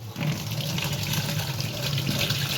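Tap water runs steadily into a sink while pabda fish are washed under it, a continuous close splashing rush with no voices.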